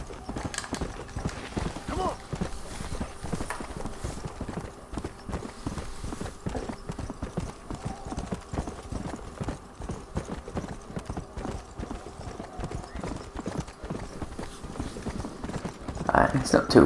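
Fast, steady hoofbeats from a galloping horse in the Red Dead Redemption: Undead Nightmare video game run continuously for about seventeen seconds, close and loud, with talking over them.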